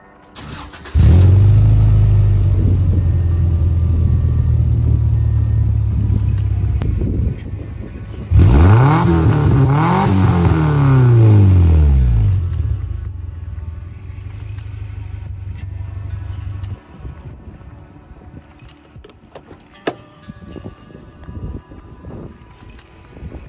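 A 1996 Subaru Legacy L wagon with an automatic transmission cranks and fires, then settles into a loud, steady idle. A second start or rev follows, and the engine then idles more quietly toward the end.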